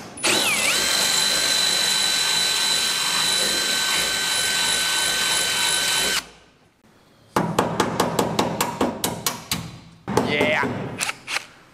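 A power drill whines steadily at close range for about six seconds, stops briefly, then a run of rapid short bursts and a final rising whir follow, while working on a LuAZ vehicle.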